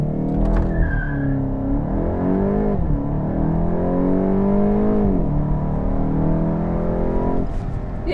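A Volkswagen Golf GTI Mk8 launching hard with launch control, its engine climbing in pitch through the revs with a brief break for a gear change, loud and close in the cabin, with a short whine and rushing noise and no talk.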